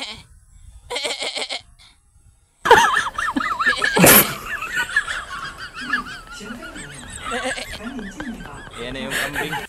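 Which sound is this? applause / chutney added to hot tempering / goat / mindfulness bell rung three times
goat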